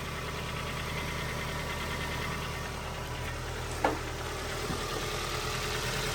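A car engine idles steadily after an intake manifold gasket repair, a low even rumble throughout at moderate distance, with one brief knock or tap near the middle.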